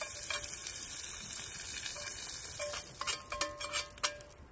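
Grouse and wild mushrooms frying in a pan at a campsite, a close, steady sizzle with a faint high whine, then a few sharp scrapes and clinks from stirring near the end, with no voices.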